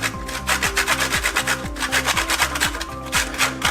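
A lemon rubbed lightly against a grater for zest, a steady fast scraping rhythm close by, each stroke rasping briefly and repeating without pause, no voices.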